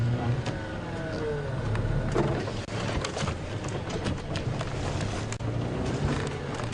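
A safari vehicle engine at Djuma Game Reserve strains and revs while climbing over a tree stump, a steady moderate growl with scattered knocks and rattles from the body and tyres.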